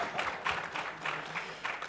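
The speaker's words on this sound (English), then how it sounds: "I think they deserve a round of applause." A conference audience applauds, a faint, brief patter of clapping rising and falling in soft bursts.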